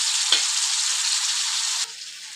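Cauliflower with tomato and coriander frying in a pan, a loud continuous close sizzle with a brief stir, then the hiss drops sharply near the end.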